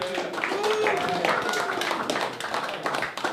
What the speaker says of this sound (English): Give it up one more time for Faye